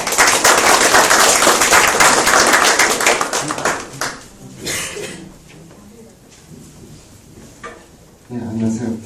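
An audience at a startup networking forum gives a guest speaker, a venture capital director, a round of applause that is loud at first and fades within a few seconds, followed by sparse sounds and a voice speaking.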